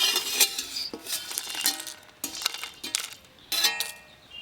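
Fried whole spices scooped out of a pan with a metal spoon while cooking chicken curry at home: a few distinct scraping clinks and stirring rasps, close and moderately loud, with no talking.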